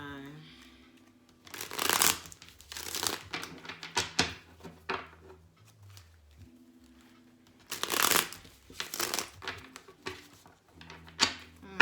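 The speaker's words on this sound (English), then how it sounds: "Shuffles for Gemini." Tarot cards shuffled in bursts of crisp riffling and flapping, two main flurries with softer handling between them, close to the microphone; a voice speaks faintly around the shuffling.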